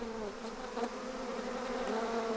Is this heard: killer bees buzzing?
yes